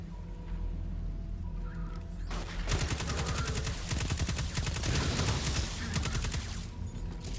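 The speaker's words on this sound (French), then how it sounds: "C'est une grosse mitrailleuse." A heavy machine gun in Destiny 2 opens up in a dense, continuous stream of rapid shots after a quieter lead-in, loud and close with no talking over it.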